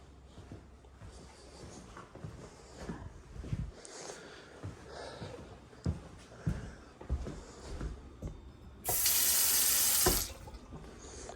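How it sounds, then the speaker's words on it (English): Water from a household tap gushes into a sink in a burst of about a second, loud and close, after stretches of quiet rustling and breathing. "The water does work right now though."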